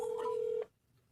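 Touch-tone keypad beeps ring out as a 1-800 number is dialed on a telephone, a steady electronic tone of about half a second that cuts off into near silence.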